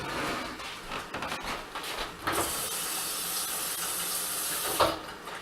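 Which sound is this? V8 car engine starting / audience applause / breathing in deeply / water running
water running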